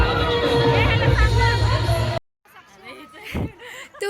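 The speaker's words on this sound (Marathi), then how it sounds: "तुम्ही बघू शकता भरपूर गर्दी आहे" Wedding guests crowd a hall at Swaraj Palace, their loud, dense babble and laughter filling the first half before an abrupt cut to sparser, nearer voices talking.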